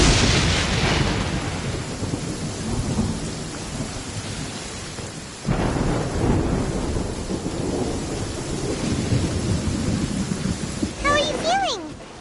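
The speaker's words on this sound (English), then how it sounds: "When you hear thunder, it's best practice to stay away from tall trees." Thunder and heavy rain in the Genshin Impact game: a loud, close, continuous downpour with deep rolling thunder swelling and fading, one sharper crack partway through, and a brief bright chime near the end.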